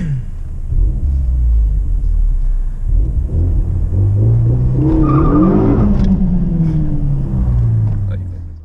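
Renault Megane RS250 hatchback accelerating hard in a 0 to 100 run, engine note rising steadily through the revs with a strong rumble and a brief dip at a gear change, loud and close, fading slightly at the end.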